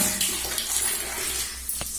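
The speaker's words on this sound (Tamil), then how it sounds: "டேப் ஆஃப் பண்ணல போய்க்கோ" Water gushes steadily from a tap into a tub, a continuous splashing hiss close up with no voices.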